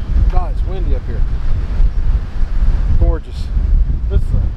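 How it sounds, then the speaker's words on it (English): Strong wind buffets the microphone on a hilltop overlook, a steady roaring rumble throughout, with a voice breaking through briefly twice. "it's windy up here"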